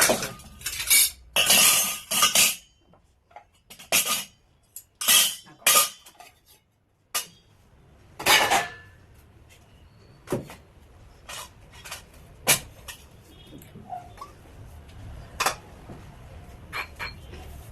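Bowls and dishes clink and clatter in bursts, with metal utensils rattling between pauses and a quieter stretch of occasional knocks toward the end.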